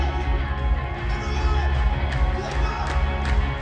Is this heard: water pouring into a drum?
no